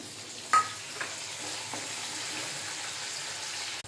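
Onion frying in hot oil, a steady close sizzle that hisses evenly throughout, with one brief clink near the start and no talk.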